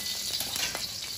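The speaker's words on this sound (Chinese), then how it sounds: "葱姜花椒下锅 炸一下啊" Scallion, ginger and Sichuan peppercorns sizzle in hot oil, a brief burst of bright, crackling frying at close range, with no voices.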